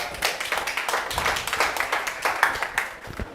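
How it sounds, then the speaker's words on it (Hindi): Applause from an audience for a student selected in the ICAR entrance exam: dense, steady hand clapping with sharp individual claps, close and moderately loud, for about three seconds. "सबीना मीना के लिए बहुत बहुत तालियां भाई।"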